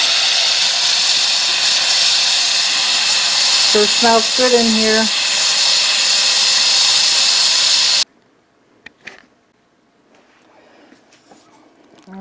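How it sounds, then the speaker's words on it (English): An Instant Pot pressure cooker making chicken soup vents steam in a loud, steady hiss for several seconds that cuts off abruptly, followed by a quiet room where a person briefly speaks. "Let's let the steam out. We're going to do that by pressing the button here."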